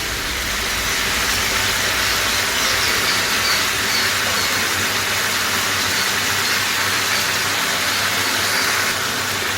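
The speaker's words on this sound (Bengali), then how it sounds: "পেঁয়াজটাকে আমি এর মধ্যে অ্যাড করে দিচ্ছি" Finely sliced onions hit a hot pan with chicken and set off a loud, even sizzle that hisses steadily from start to finish, with no talking.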